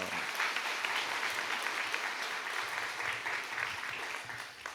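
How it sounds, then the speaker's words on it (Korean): A church congregation at a Sunday service applauds newly confirmed members, a steady, dense wash of clapping that holds evenly throughout and tapers slightly at the end. "박수하겠습니다"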